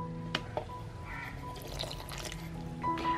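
Half a cup of water poured into a mixture of powdered sugar, milk powder and ghee for homemade condensed milk, with soft splashing and dripping plus a few small knocks against steady background noise.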